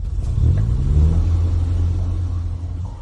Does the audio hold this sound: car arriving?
yes